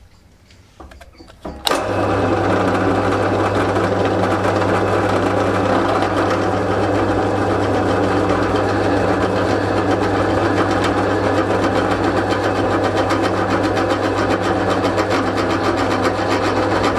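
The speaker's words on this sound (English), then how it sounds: "So this is going to be the spotting drill in action." A spotting drill bit cuts a centering hole in metal on a drill. After a brief quieter start, the machine settles into a steady, close, continuous motor whine and hum with no talking.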